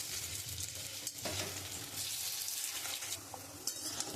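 Gima greens fritters fry in hot oil in a wok, giving a steady, close crackling sizzle with a few soft stirring scrapes and no talk.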